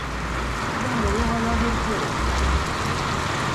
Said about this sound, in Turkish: Arkadaşlar şu an acayip yağmur yağıyor